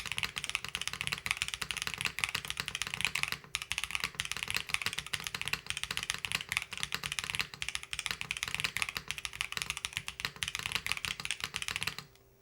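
Dense, steady mechanical keyboard typing from a custom keyboard build, rapid continuous keystrokes for about twelve seconds with a faint background hum, stopping abruptly at the end; no talking.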